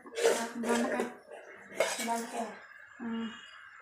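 A steel spoon knocks against an idli steaming stand in a home kitchen, several bright metallic clinks and scrapes in short clusters, close and fairly quiet.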